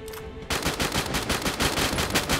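Rapid automatic gunfire in the mobile battle-royale game Free Fire Max bursts in abruptly after a brief quiet moment, then rattles on loud and close in a fast, slightly uneven stream of shots with no talk.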